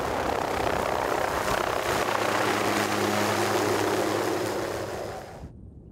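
A helicopter flies over a New Zealand mountain setting, a loud steady rotor and engine roar with a low throbbing hum that holds, then cuts off abruptly near the end.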